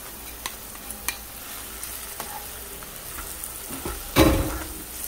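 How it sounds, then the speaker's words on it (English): Pimento peppers, shallots, hot pepper and garlic sauté in a pan with a steady low sizzle, light utensil taps, and a louder burst of frying near the end. "You can saute this anywhere from 2 to 3 minutes."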